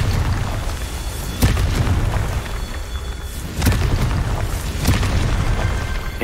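Confringo spell explosions in the video game Hogwarts Legacy, three loud booming blasts about two seconds apart, each a sharp burst followed by a rumbling tail over a noisy background.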